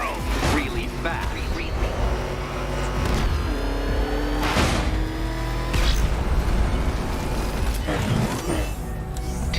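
The Batmobile driving in the video game Batman Arkham Knight, a continuous loud engine drone with whooshing passes and mechanical clunks, under a speaking voice.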